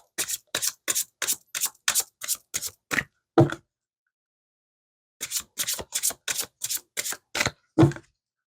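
A deck of cards shuffled by hand in two bursts, each a quick series of about eight crisp riffling snaps ending in a firmer tap, separated by a couple of seconds of silence, close and clear.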